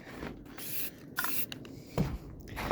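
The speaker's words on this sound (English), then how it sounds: "we take our primer, we aim at them, and then we just go across like so" A spray can of primer is aimed at miniatures in short bursts, giving several brief hissing sprays separated by pauses and quiet handling noise, close and fairly soft.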